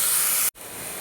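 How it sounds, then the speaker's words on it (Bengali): Ground onion paste hits hot oil in a wok for chicken momo filling, a loud, bright continuous sizzle that drops out for an instant and then resumes just as strongly, with no talking. "এবার ভালো করে একটু ভেজে ভেজে নেব"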